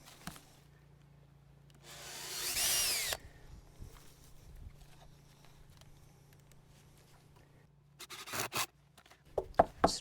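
Power drill boring into a wooden raised garden bed frame, one loud sustained burst of about a second, followed later by short clattering knocks and handling noises against a quiet outdoor background.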